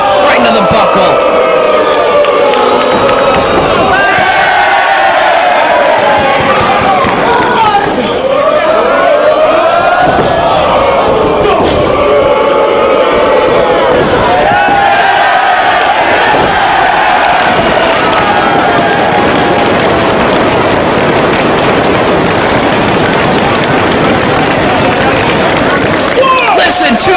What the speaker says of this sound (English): Listen to these fans cheering every move from CM Punk.